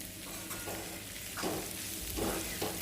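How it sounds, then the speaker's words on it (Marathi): Potatoes sautéing in an onion and spice masala for batata bhaji give off a soft, steady sizzle with a few louder stirring scrapes, heard alone. "त्याला छानसं असं परतून घ्यायचं आहे."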